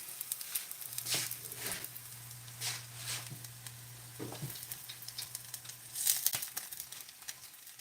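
Vegan Salisbury steak patties fry in hot oil in a pan, giving a steady soft sizzle with scattered crackles and pops, fairly faint and close, with no talking over it.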